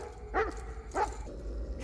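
Two short, sharp dog barks about half a second apart from a scene in the 1997 film The Relic, heard over a low, quiet background hum.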